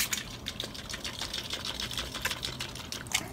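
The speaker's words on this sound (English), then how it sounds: "we're just going to pour it in and hopefully that'll thicken it up while it simmers" Liquid poured into a pan of beef stroganoff simmering on the stove, a steady close splashing and trickling pour that runs through the whole moment without voices.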